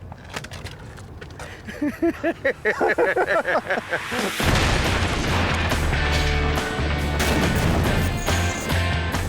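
Buster the crash-test dummy is launched from a cannon with a loud, sustained blast-like roar that follows a stretch of rhythmic bursts, staying broad and heavy through the rest of the scene with voices faintly mixed in.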